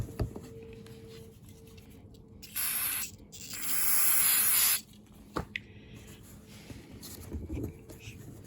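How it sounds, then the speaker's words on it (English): Cleaner sprayed from a bottle onto a rag, two hissing bursts, a short one and then a longer one of about two seconds, close and clear against a quiet room. "Sprayed the cleaner on the rag"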